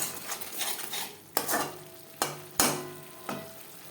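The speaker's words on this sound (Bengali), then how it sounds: "লবণ হলুদ মশলার সাথে বেশ ভালো করে মিক্স করে দেবো" Fish being stirred in a hot pan with salt, turmeric and spices: a soft sizzle under several sharp spatula knocks and scrapes against the pan, spaced irregularly and close.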